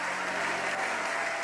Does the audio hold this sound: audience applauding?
yes